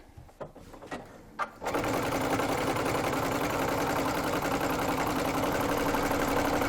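Sewing machine stitching a zigzag on fabric for a reversible cloth cover: a few soft clicks, then a steady, fast, continuous mechanical whirring and rattle running close and loud to the end.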